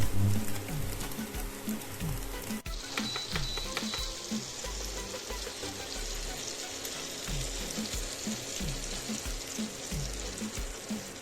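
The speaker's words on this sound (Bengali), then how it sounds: "প্রথমে সয়া এগ একসঙ্গে ভালো করে ভেজে নিচ্ছি।" Soya chunks and egg frying together in a pan, a steady close sizzle with crackling spits and occasional scraping stirs throughout.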